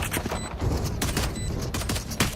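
Rapid gunshots rattle in quick bursts during a VALORANT esports playoff match, loud and close, with sharp cracks repeating throughout.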